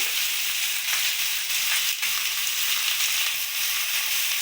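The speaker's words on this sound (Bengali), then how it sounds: "এবার আমি সবজিগুলো দিয়ে দেবো কড়াইতে" Vegetables with fenugreek greens frying in hot oil in a kadai, a loud, dense, continuous sizzle heard up close and alone, with a few faint stirring scrapes.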